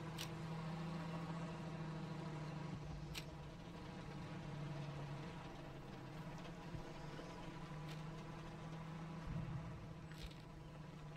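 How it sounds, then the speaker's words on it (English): A Sherman tank engine in a World War II battle game near Bayeux, rumbling low and steady throughout at a distance, with a sustained drone and a few faint clanks over it. "Heard a Sherman engine by west side of C3, very west, northwest."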